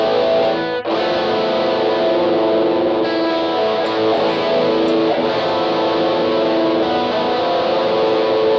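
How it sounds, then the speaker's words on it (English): Electric guitar played through an MXR Rockman X100 pedal with chorus and heavy effects, sustained distorted chords ringing continuously and loudly with a shimmering modulated swirl, a brief break near the start. "you can hear that chorus roll in"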